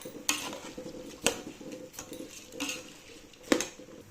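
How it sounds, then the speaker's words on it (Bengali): A spatula stirs and scrapes rice with vegetables in a pan as it fries, with sharp metallic knocks every second or so over a soft sizzle, close and fairly quiet. "দেখুন, ভালো করে সবজির সাথে চালগুলো ভেজে নিয়েছি"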